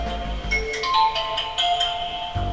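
A mobile phone ringtone plays a short, bright electronic melody of stepped notes, loud and close, running through the whole brief moment.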